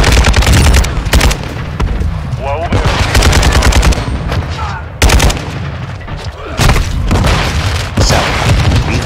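RPK light machine gun firing in Call of Duty: Modern Warfare 2 online multiplayer, with loud, rapid bursts of automatic gunfire broken by short pauses and a few booming explosions, while a voice talks over part of it.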